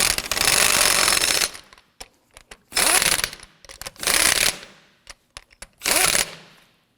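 Repeated rattling hammer bursts of an impact wrench snugging lug nuts on a 2008-2011 Ford Focus, four loud close runs of about a second each with short clicks and clanks between.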